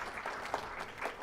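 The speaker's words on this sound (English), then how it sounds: "Please give them a round of applause." Audience applause for panelists at a legal seminar, a brief burst of clapping in a room, moderately loud, with no talk over it.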